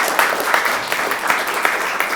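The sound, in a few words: audience applause at a graduation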